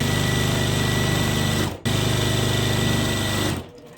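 A sewing machine runs steadily and close by while chain piecing starched fabric for a Flying Geese quilt block, with a brief stop near the middle and a fade as it halts at the end.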